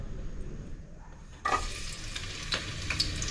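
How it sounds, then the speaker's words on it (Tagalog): Garlic hits hot cooking oil in a pan with a sudden bright sizzle that keeps crackling steadily, with a few small pops and stirring sounds, after a quieter moment of preparation. "Lagyan po natin ng mantika. Ilagay na itong bawang"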